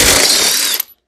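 A hand ratchet spins a 3/4-inch socket while working on a budget turbo Mustang, giving one short, loud, close burst of rapid clicking that cuts off abruptly.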